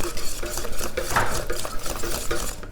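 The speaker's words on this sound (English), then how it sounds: "And just whisk this through." A whisk stirring a lasagne cheese sauce made with grated Parmesan and cheddar in a pan, giving a steady, close scraping and swishing rhythm for the whole stretch with faint clinks of metal on the pan.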